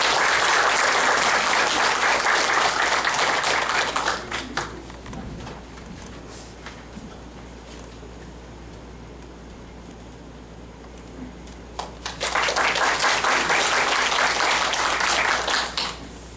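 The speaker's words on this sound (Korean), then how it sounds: "큰 박수로 맞아주시기 바랍니다" An audience in a hall at the Korea Science and Technology Center applauds at a committee launch ceremony for the ICME12 mathematics education congress, with loud sustained clapping, a quieter lull in the middle, then a second strong burst of applause.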